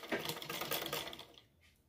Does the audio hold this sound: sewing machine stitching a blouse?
yes